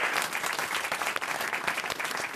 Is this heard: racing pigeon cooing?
no